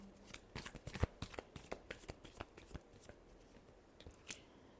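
Tarot cards being shuffled give a rapid, irregular run of crisp papery slaps and riffles, close and moderately quiet, continuing for several seconds.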